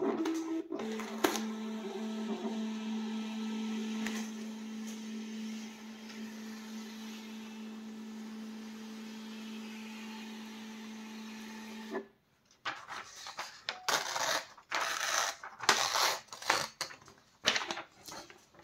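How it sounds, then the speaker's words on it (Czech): A GREMATA MPMT810 mobile thermal printer prints a document, starting with a few clicks, then a steady motor whine for several seconds, followed by irregular rattling, tearing-like bursts near the end. "A dám ještě jednou tisk. A tiskneme."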